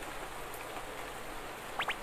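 Heavy cartoon rain pours as a steady dense hiss, with a couple of brief bright squeaky accents near the end.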